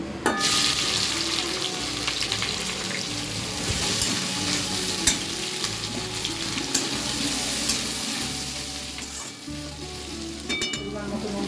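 Chopped onions fry loudly in hot oil with a dense, continuous sizzle, and a spoon stirs and scrapes through them in regular strokes, close and without talk.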